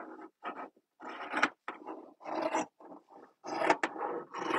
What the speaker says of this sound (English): Sometimes I like the sound scissors make when they're cutting.